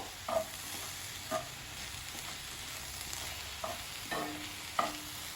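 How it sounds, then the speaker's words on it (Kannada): Broccoli corn masala fry with amchur powder is stirred in a pan over a soft continuous sizzle, punctuated by a handful of distinct spatula scrapes and knocks against the pan. "ಈಗ ಇದನ್ನ ಚೆನ್ನಾಗಿ ಮಿಕ್ಸ್ ಮಾಡ್ಕೊಳ್ಬೇಕು"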